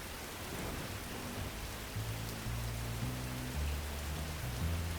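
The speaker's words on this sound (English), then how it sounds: "We were both standing in the pouring rain" Pouring rain in the dark in the middle of nowhere, a dense steady hiss filling the scene with a low rumbling drone underneath, constant and alone without voices.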